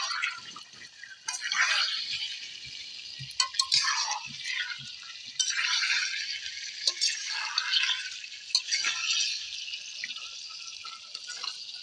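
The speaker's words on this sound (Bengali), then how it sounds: "এবার এগুলোকে একটু নেড়ে দেবো, যাতে আলুগুলোর গায়ে মশলাগুলো খুব সুন্দরভাবে মিক্স হয়ে যায়" Potatoes stirred with spices in a cooking pot at an outdoor winter picnic, a wet sizzling hiss with scraping and clinking from the spoon, rising and falling in bursts, no talking.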